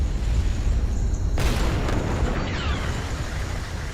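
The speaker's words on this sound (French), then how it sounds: "les explosions secondaires étaient gigantesques" Secondary explosions from an artillery strike about 4 km away: a sudden broadband blast cuts in midway through a constant heavy rumble and roar, then trails off into continuing distant booming.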